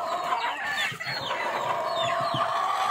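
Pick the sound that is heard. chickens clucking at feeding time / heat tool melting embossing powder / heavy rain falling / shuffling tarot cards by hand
chickens clucking at feeding time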